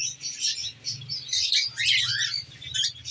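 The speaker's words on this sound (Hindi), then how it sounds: "एहसन भाई की शॉप का, क्योंकि कल इनके पास थोड़े से नए बार्ड्स आए हैं।" Pet birds chirping inside a bird shop at a Sunday bazaar in Islamabad, a dense, close chorus of high twittering calls over a low steady hum, with no talk.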